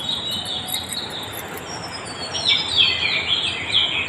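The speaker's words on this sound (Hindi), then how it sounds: "देखिए बर्ड्स कितना प्यारा बोल रही हैं" Small birds chirp and trill outdoors in a series of high, quick calls. They grow livelier toward the end over a constant hissy background, with no one speaking.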